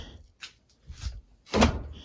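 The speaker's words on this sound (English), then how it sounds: "Open the door and take your clothes, switch right into the dryer." A clothes dryer door is pulled open in a home laundry setting, with a few soft clicks and thumps leading to one louder, close latch release and swing.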